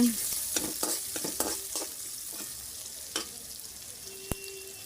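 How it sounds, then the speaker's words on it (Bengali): Chopped onions frying in oil left over from frying fish, a soft continuous sizzle with a few quick scraping stirs and clicks near the start, close and fairly quiet, with no talking. "এখন আমি পরিমাণ মতন আটু তেল দিয়ে দিয়েছি এখন পেঁয়াজ কুচি দিয়ে দিচ্ছি"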